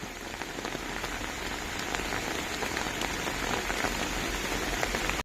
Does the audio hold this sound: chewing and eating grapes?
no